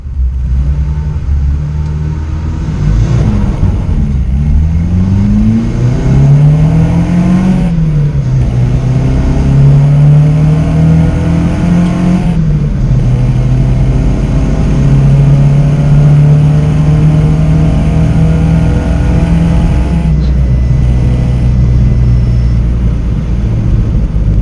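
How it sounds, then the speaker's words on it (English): A 1973 Isuzu Bellett fitted with velocity stacks accelerates from 0 to 100 km/h, its engine loud and close, revving up through several gears with a brief drop in pitch at each shift. "we're going to fire it up, we're going to let it warm up, and then we're going to do a 0 to 100 kilometer an hour run"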